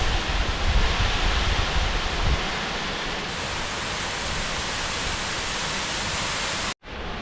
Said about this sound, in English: The double waterfall.